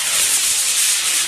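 A model rocket motor ignites on the pad at a club rocket launch in southern Colorado, giving a loud, close, steady high-pitched rushing hiss with no pause.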